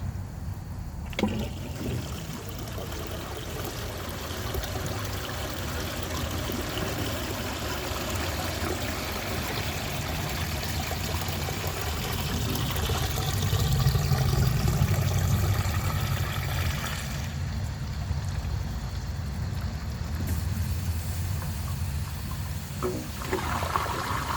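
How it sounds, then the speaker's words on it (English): Water trickles and runs steadily from a leaking toilet jet channel, a constant dribbling flow that swells slightly midway and then settles, with no voices. "water is leaking out the jet channel constantly"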